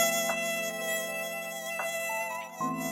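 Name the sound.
mosquito buzzing sound effect, pitch shifted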